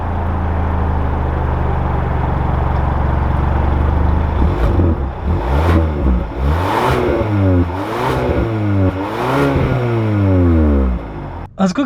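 A 2021 Hyundai Sonata SEL Plus idles, then pulls away and accelerates through several gears. The engine note rises and drops repeatedly in a close, loud run of revving sweeps.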